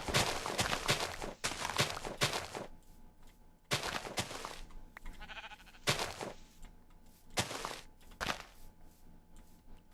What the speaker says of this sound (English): Hello, Mr. Sheep.